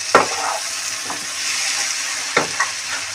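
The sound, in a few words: stirring vegetables frying in pan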